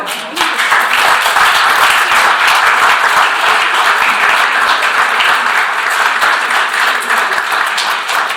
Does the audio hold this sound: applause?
yes